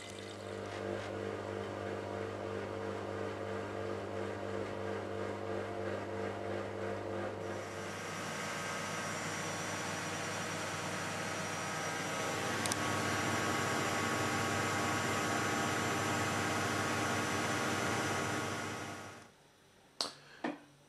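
Washing machine running a cool 30-degree wash, a steady loud mechanical hum with rhythmic drum churning that shifts into a broader whooshing spin before cutting off near the end, with no talking.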